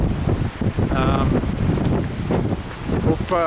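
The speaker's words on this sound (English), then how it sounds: "you can see the wind blowing up here" Strong wind buffets the microphone outdoors beside a 1974 Volkswagen Westfalia camper, a loud continuous rushing roar with brief voices under it.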